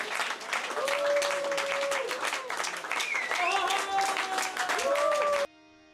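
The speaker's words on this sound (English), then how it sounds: "give a massive round of applause to the incredible, transcendental Indradyumna Maharaj" An audience at a spiritual kirtan event with Indradyumna Swami breaks into full applause, a dense continuous wash of clapping with voices calling and singing over it, then it cuts off abruptly near the end.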